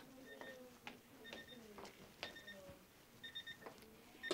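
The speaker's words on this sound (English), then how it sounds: "I hear the timer going off." A classroom timer goes off with repeated short electronic beep bursts, fairly faint against room noise and children's chatter.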